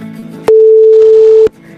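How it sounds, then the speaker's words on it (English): A steady 440 Hz pure sine test tone sounds alone for about a second, loud and constant, beginning and ending abruptly with a brief click at each edge. "This is the sound of 440 Hz."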